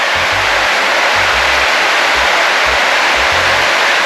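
Haew Suwat waterfall in Khao Yai, about 25 metres high, roars as a steady, dense broadband rush close by with a faint low thudding underneath.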